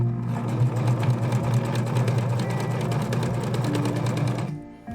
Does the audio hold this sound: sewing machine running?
yes